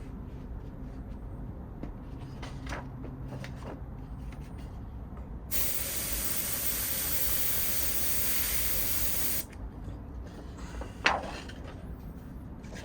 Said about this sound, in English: I have the white in the airbrush